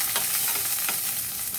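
Onion frying in a pan gives off a dense, loud sizzle, with brief bursts of stirring rising out of the constant hiss.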